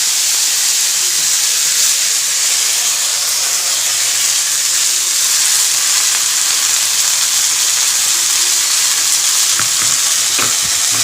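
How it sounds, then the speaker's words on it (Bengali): Leafy greens sizzle and crackle steadily in hot oil with mustard seeds, a dense close frying hiss filling the whole stretch, with a few sharper spatters near the end. "সর্ষে ফোড়ন সর্ষেটা ভালো করে তেলে ভাজা হওয়ার পরে আমি শাকগুলোকে দিয়ে দিই"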